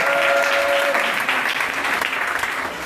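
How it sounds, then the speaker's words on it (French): Church congregation in a loud, sustained wave of applause and cheering, dense clapping that fills the space close up and fades only slightly over a few seconds, with voices mixed in. "Acclame puissamment Jésus."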